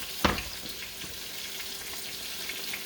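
Thick pork chops are flipped over in a frying pan, a single thump and splatter followed by a steady, low sizzle of the meat frying.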